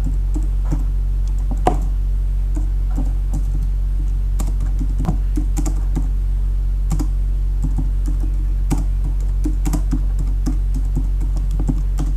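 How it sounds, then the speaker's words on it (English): Steady computer keyboard typing, a long run of quick uneven keystrokes with a few sharper clicks, close and alone over a low constant hum. "I will type it in"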